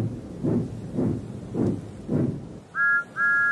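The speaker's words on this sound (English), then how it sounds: "Then he heard a whistle." Steam train whistle sounding twice in short, clear, steady blasts, following a run of deep rhythmic chuffs from the engine, near and loud with no talk.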